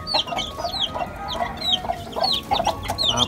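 Young gamefowl chicks of the Sweater Escolin line cheeping, with rapid, repeated high peeps close by, layered in quick bursts over a soft low background hum.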